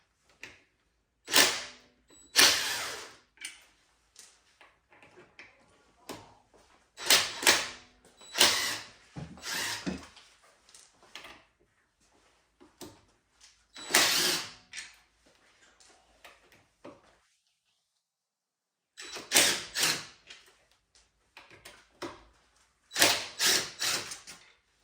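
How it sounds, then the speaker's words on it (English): Cordless impact wrench loosening trim ring bolts on a 2023 Ford Bronco Wildtrak, short loud rattling bursts of hammering spaced by quiet pauses, up close, with faint handling clicks between runs. "I'm going to be using an impact today to remove my bolts."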